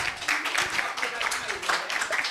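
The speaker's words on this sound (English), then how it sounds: "Please give our excellent team a round of applause." Audience applause at a debate competition, a dense steady patter of many hands clapping, fairly close and continuous throughout.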